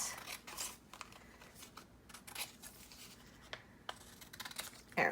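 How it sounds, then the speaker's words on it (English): Scissors snipping through a glossy magazine page during fussy-cut collage work, close and quiet, with irregular scraping cuts and rustles of paper. "We're going to cut like this."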